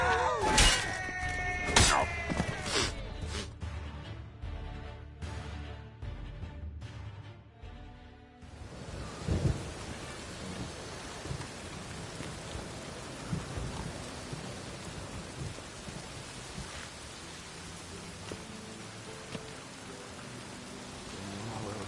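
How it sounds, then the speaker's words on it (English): Heavy rain and rolling thunder of a storm in The Witcher 3, with loud crashing strikes early on giving way to a steady, dense downpour that continues throughout. "A storm, damn it."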